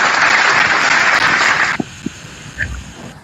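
Brief burst of audience clapping that cuts off sharply after about a second and a half, followed by a few scattered claps, handling knocks and a quiet room.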